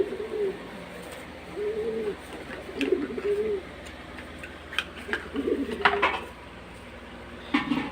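A pigeon with an eye problem, held for eye-drop treatment, lets out repeated low coos in short bursts. Small handling clicks and taps fall between the calls.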